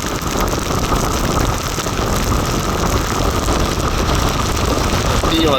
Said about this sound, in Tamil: அவ்வளோத்துக்கு அடிக்குது காற்று